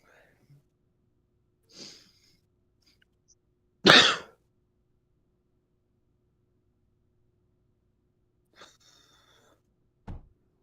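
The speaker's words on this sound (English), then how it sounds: "this cough is killing me" A person with a lingering cough lets out a loud, sharp cough near the middle, with a few fainter throat sounds and breaths scattered before and after in a quiet room.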